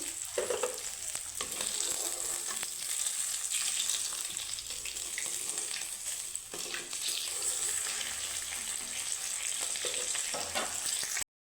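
Steady, loud hiss and crackle of katla fish frying in hot oil, continuous throughout with a few brief dips, no voices.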